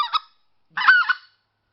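Two honking goose calls blown on a mouth call in a hunting blind, a short note then a longer drawn-out honk, close and clear against silence.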